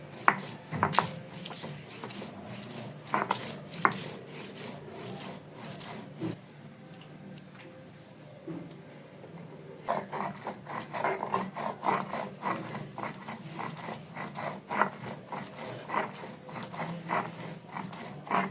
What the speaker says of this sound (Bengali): মশলা হিসেবে এখানে আমি জিরে, আদা, রসুন ব্যবহার করছি। এখন আমি এগুলোকে বেটে নিব।